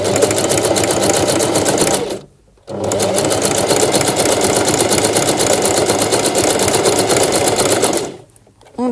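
A sewing machine runs steadily, stitching a zigzag seam across fabric with a loud, fast, even mechanical chatter that pauses briefly twice before resuming.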